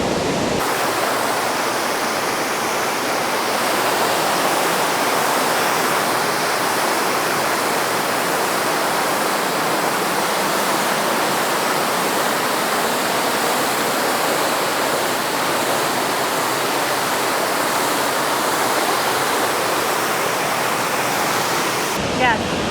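Water pours over the dam at Mammoth Spring in Arkansas, a loud, steady broadband roar that runs unbroken and close throughout.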